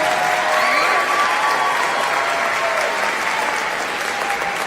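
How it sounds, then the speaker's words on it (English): A junior high school spring concert audience gives sustained applause for the student band. The clapping is loud, even and continuous, with a light crowd murmur underneath and no pauses. "let's give another round of applause for this amazing group of kids"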